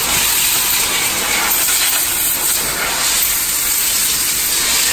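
At a car workshop, an air line blows a loud, unbroken hiss of compressed air across a Maruti Suzuki Swift, close and constant from start to finish.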